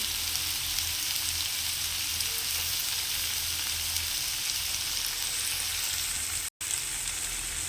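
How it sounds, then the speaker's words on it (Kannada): Tomatoes fry in a little oil for tomato rice, making an even, continuous sizzle at moderate level with no talking over it. There is one brief dropout near the end. "ನೆಕ್ಸ್ಟ್ ಟೊಮೊಟೊ ಹಚ್ಚಿದ್ದೀವಲ್ಲ, ಟೊಮೊಟೊ ಹಾಕಬೇಕು."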